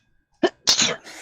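A single sharp sneeze bursts out close by, followed by a brief breathy trailing sound, with near silence before it.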